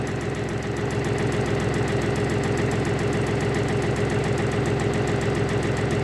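A Yanmar F22 tractor engine idles steadily with a rhythmic low knocking throb, loud and close, running unchanged throughout with no voices.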